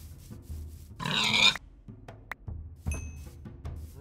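A pig in the Minecraft video game grunts several times in short bursts, fairly quiet against faint game sounds, with a louder squealing grunt near the middle.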